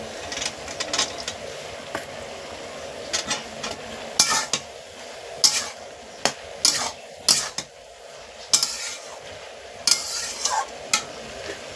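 Ash gourd and soaked chickpeas cook in a pan, a quiet sizzle under repeated sharp scrapes and clinks of a spatula against the metal.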